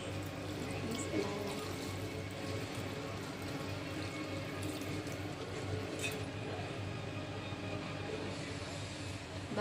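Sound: water being poured into a hot pot

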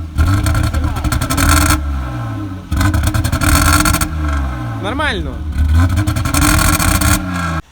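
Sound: BMW E34 2.0 petrol engine revving, misfiring

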